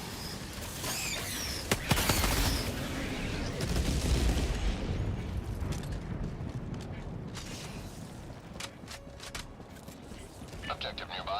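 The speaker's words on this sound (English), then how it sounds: "Requesting orbital strike." Heavy explosions and gunfire from an orbital strike in the video game Helldivers 2, on the hardest Helldive difficulty: a sharp blast near two seconds and a dense rumbling barrage that fades out, with scattered shots and clicks, mixed under game voices.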